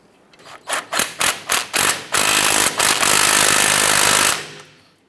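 An impact or air wrench on a 1994-2004 Chevrolet S10 tightens a ball joint nut on the upper control arm: six short loud rattling bursts, then one long sustained hammering run that cuts off abruptly.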